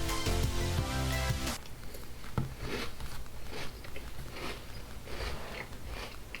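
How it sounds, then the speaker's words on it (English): A loud burst opens the clip, then a series of close, crisp crunches of Funfetti cereal being chewed, repeating irregularly. "So if you listen for the crunch"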